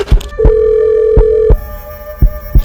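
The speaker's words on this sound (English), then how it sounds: "it is my phone, and Robot E.L.B.E.R.R is calling it" A mobile phone rings with an incoming call, loud and close: a repeating electronic ring tone with sharp rhythmic pulses about every second and a sustained melodic tone in between, with no voices.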